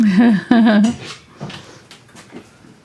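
A dog whimpers and whines behind a closed door, two close, loud pitched whimpers at the start followed by quieter scratching and shuffling sounds.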